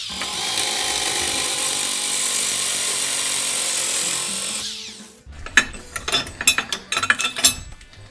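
A Rogue Fab tube bender works steel tubing: a long sustained whirring, grinding mechanical drone fades out, then a run of close, irregular ratcheting clicks and metallic clunks.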